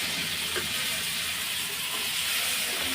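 Skin-on potatoes seasoned with black and white salt fry in a pan, giving a continuous, fairly soft sizzling hiss with no pauses.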